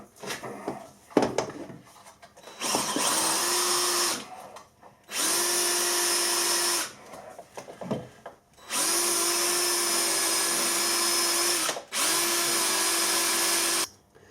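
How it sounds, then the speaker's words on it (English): A cordless drill fitted with an 8mm tapping drill bores into metal in four sustained whining bursts of a second or more each, separated by short pauses with a few clicks and handling knocks, heard up close. "this is the 8mm tapping drill"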